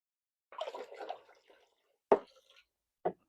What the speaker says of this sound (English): And then pour in the vinegar.